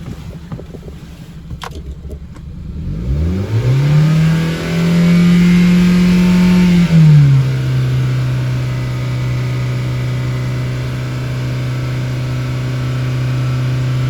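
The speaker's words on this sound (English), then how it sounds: "now I'm going to rev it a little bit more" A 2011-2017 Hyundai Accent GDI engine, after intake cleaning, climbs from idle into a held rev for a few seconds, then drops back to a steady, even idle; close and loud, with no voices.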